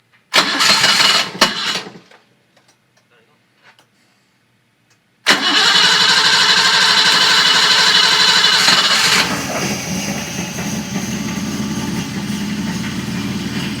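A 1980 BMW 528i cranks briefly, falls silent, then fires up and roars loudly before settling into a steady, slightly rough idle, close and with no talk over it.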